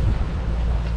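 Wind buffets a microphone aboard a boat entering Rat Cay cut from the ocean against the tide, a loud, low, gusty roar filling the brief moment.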